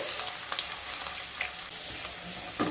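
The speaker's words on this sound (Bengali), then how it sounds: "আলুগুলোকে ভেজে নিয়ে তারপর ফিরে আসছি" Medium potatoes frying in hot mustard oil in a kadai: a steady, fairly soft sizzling hiss with scattered small spits and crackles, alone without voices.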